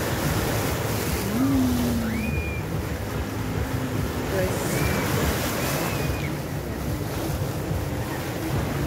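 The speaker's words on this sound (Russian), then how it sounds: "Ой, как море-то разбушевалось." Rough Black Sea surf along the Yalta seafront in stormy weather, a loud continuous wash of waves and wind buffeting the microphone, with faint whistling tones over it.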